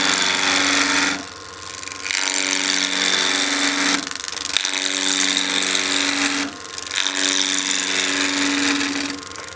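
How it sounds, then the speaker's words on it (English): A skew chisel taking peeling cuts on wood spinning on a lathe at 1500 RPM: a loud, steady whirring hiss of cutting, broken by short pauses into three long passes, with no talk. "We're going to start those peeling cuts."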